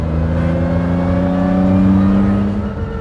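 A Lamborghini Miura engine drones loud and close, a steady, rich mechanical roar that swells slightly midway and eases toward the end, with no voices.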